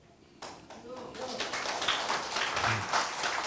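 Audience applause at an interfaith joint worship service, clapping from many hands that starts suddenly and builds into a sustained, fairly loud patter with voices mixed in.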